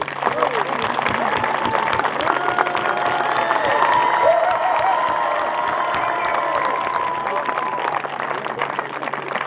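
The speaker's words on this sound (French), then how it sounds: "je demande à tous les figurants d'applaudir notre public très fidèle" Costumed performers at an outdoor sound-and-light show applaud their audience, dense crowd clapping with scattered cheers and voices mixed in beneath a continuous musical background.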